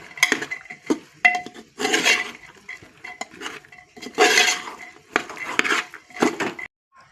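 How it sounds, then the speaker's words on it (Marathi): Bean pods and spices mixed in a pot: a spoon scrapes and clanks against the metal in irregular bursts, with rattling rubs and short clinks, close by and unaccompanied by talk. "आता हे सगळे इन्ग्रेडियंट आपण मिक्स करून घेऊयात।"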